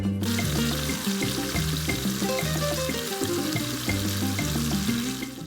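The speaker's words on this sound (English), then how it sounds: "Making sure to sear them on both sides." Birria meat sears in an Instant Pot with a dense, steady hiss of frying, and shifting tonal hums run continuously beneath it, loud and close.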